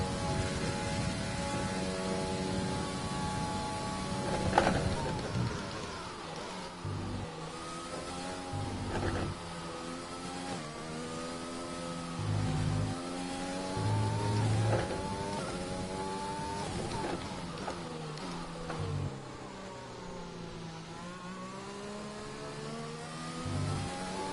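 A Formula 1 car screams through a hot lap of Belgium in the racing game F1 2020, its high engine note climbing and dropping through repeated gear shifts over a constant rushing drone, with no voices.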